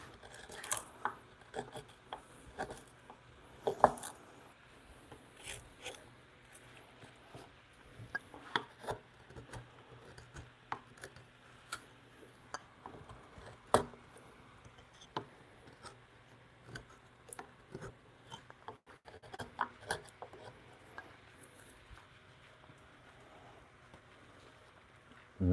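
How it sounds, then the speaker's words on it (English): A wood chisel, used like a gouge to carve a curve in a workpiece, makes quiet, irregular scraping and clicking cuts, close but faint, in a home woodworking shop. "I'm going to have to basically use one of my chisels like a gouge and take some material out of this middle down here to get that curve."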